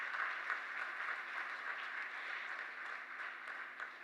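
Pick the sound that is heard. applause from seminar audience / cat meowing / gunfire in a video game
applause from seminar audience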